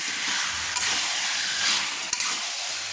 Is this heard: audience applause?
no